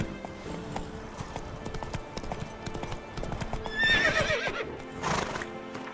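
Roach, a horse in The Witcher 3: Wild Hunt, gallops with steady rapid hoofbeats, then lets out a clear rising whinny near the end, over a low game soundscape.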